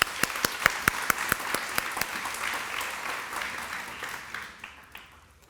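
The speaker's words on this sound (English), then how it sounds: "So give yourselves a round of applause." Audience applause at an evening awards event, a crowd clapping briskly with sharp individual claps up front, gradually thinning and fading out toward the end.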